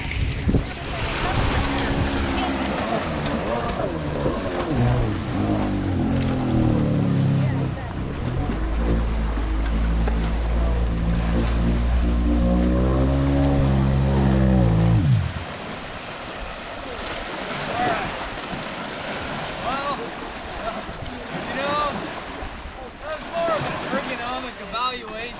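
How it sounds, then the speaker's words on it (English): A detuned Superjet stand-up jet ski running on one cylinder drones loudly on open water with wind buffeting the microphone; the steady engine tone cuts out after about fifteen seconds, leaving wind and water noise. "he's got it detuned. One cylinder. Running like a watch."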